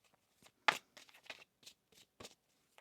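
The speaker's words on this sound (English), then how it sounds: "One more shuffle." Tarot cards are shuffled in quick soft riffles and flicks, a run of short bursts at close range in a quiet room.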